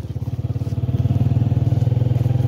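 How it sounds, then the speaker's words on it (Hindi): Motorcycle riding past hilly lookout views, the engine putting out a steady low pulsing throb close by that grows slightly louder and holds even, with no talk over it. "और ये हमारी बाइक जो है ना,"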